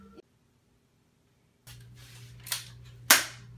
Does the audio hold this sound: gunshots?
yes